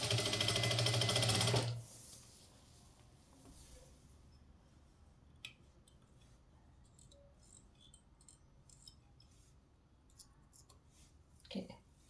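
A sewing machine stitching cloth whirs loudly and steadily for under two seconds, then stops, leaving quiet room sound with faint clicks and handling noises.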